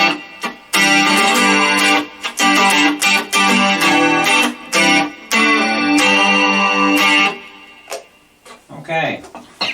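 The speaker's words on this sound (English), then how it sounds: "any reverb effect you're hearing is whatever Boss did with the patches" An electric guitar plays through an Orange Crush 10 amp driven by a Boss GT-100 pedal board patch with reverb. Loud, distorted sustained chords and riffs fill the space in bursts, with brief pauses and a trailing reverb tail near the end.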